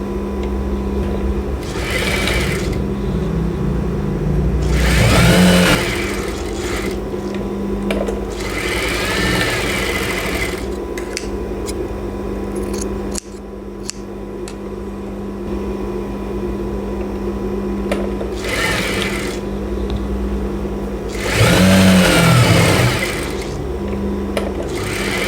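Sewing machine stitching straight seams and a corner on fabric for a child's babydoll-style gathered dress, with several loud bursts of whirring stitching separated by quieter pauses and a low steady motor hum, no talk.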